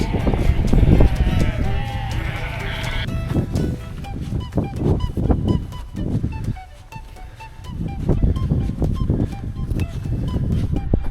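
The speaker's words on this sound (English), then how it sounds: "met with tons and tons of sheep." Sheep on Mount Brandon, County Kerry, bleat repeatedly at close range, overlapping calls rising and falling, with a brief lull before the flock starts up again.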